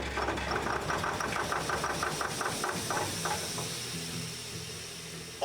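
An engine roars at very high RPM in a runaway, opened up with the air valve for free flow, its loud steady drone laced with rapid knocking pulses that thin out toward the end, then a sharp burst closes.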